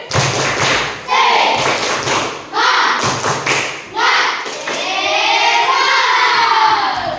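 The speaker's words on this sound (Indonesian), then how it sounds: "Kita tepuk semangat untuk kita semua dulu sebelum kita menutupi pelajaran kita hari ini." A classroom group of children performs a rhythmic spirit clap, tepuk semangat, with bursts of loud patterned claps and thumps broken by short pauses, and children shouting along near the end.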